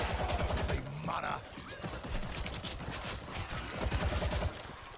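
Rapid three-round burst fire from a weapon in the video game World War Z, with clustered gunshots repeating across the clip under steady talking and busy game ambience.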